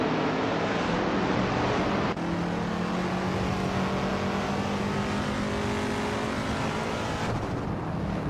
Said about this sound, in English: Maya is driving a 1969 Dodge Charger Hemi, same as the leader.